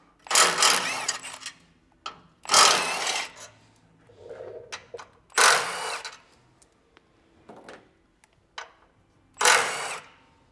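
A ratchet clicks in four bursts, each a rapid buzzing run of clicks, as 12mm bolts are backed out of a bracket under a Toyota Tacoma, with quieter clinks and handling in between.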